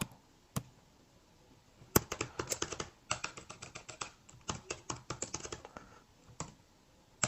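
Code is typed on a computer keyboard in fast, close, crisp clicks. Irregular bursts of keystrokes come with brief pauses between them, and no voice is heard.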